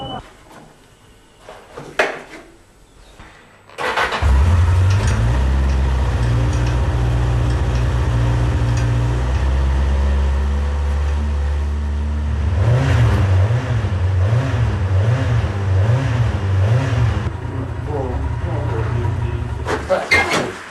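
A motorcycle with a weak battery, left standing for months, cranks and fires up, then idles loudly with a steady rumble and a few blips of the throttle, while people talk before and during the engine noise.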